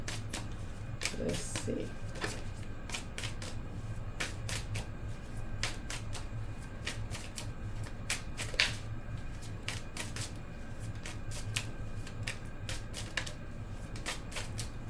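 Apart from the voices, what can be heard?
shuffling a deck of cards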